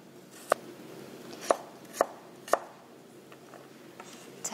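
A knife slices garlic cloves on a cutting board, landing four crisp, evenly spaced chops close up, then a few lighter taps trailing off, with no talk.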